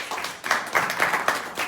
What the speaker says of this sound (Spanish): Vamos a darle un aplauso a Asier.